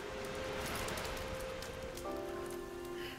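Light rain in Diluvian Winds, a soft, steady patter over a faint sustained musical tone that shifts pitch partway through.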